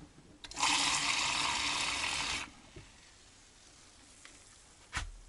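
Tap water gushes steadily for about two seconds to dilute fishing bait syrup, then stops, leaving faint handling knocks and a sharp click near the end.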